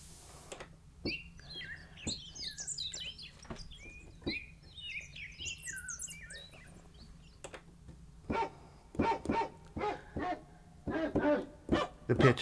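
Dog bark sound effect played from a Roland RD-88 stage piano keyboard, a series of short barks growing louder and more frequent toward the end, following chirpy bird-like synth tones.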